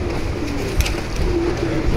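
Kalmua pigeons coo steadily in a loft, a soft low repeated cooing close by with a brief rustle partway through.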